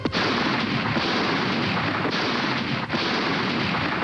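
Homemade plastic explosive detonating, a loud, dense blast of broadband noise that sustains for several seconds with a couple of sharp secondary cracks, heard alone without voices.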